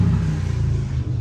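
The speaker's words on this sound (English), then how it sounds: "that was a loud motorcycle." A loud motorcycle passes nearby with a deep, rumbling engine roar that stays heavy and steady through the short moment.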